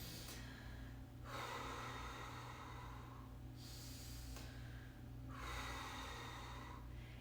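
A woman breathes out forcefully three times while moving about a kitchen, each long, gusty exhale close to the microphone and separated by short pauses, with a low steady hum behind.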